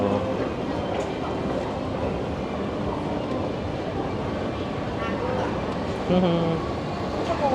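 Train rumbling at an MRT station, a steady loud rolling drone with faint rail clatter and squeals, while people talk nearby.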